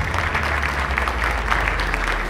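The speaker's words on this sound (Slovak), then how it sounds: "veľký potlesk." An audience at a Slovenské elektrárne careers-day event in Mochovce applauds to welcome the plant director. A continuous, even burst of many hands clapping, moderately loud, with no speech over it.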